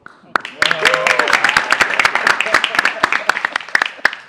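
An audience breaks into dense clapping that builds quickly and carries on steadily, close and fairly loud, with a voice briefly heard at the start.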